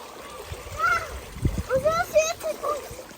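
Children take turns jumping into a family swimming pool, with splashes of water breaking through excited kids' voices and chatter, several bursts in quick succession nearby.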